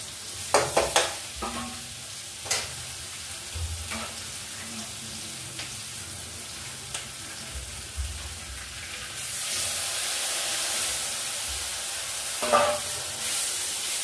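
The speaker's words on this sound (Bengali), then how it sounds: "এটা কিন্তু আমি বেশ করে আমি ভাজছি, ভেজে নিতে হবে" A spice paste of cumin, turmeric and ginger fries in a pan while being stirred, with a steady close sizzle broken by scraping spoon strokes, growing into a louder, denser hiss toward the end.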